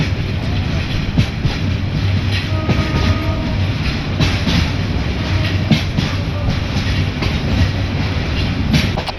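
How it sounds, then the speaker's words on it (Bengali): The Mohanganj Express rumbles loudly and steadily through Joydebpur railway station without stopping, with rattling, clattering rail noise and occasional sharp clicks, heard from on board. "জয়দেবপুর রেলওয়ে স্টেশনে মোহনগঞ্জ এক্সপ্রেসে কোনো যাত্রাবিরতি না থাকে আমরা এই স্টেশন থ্রুপাস যাব"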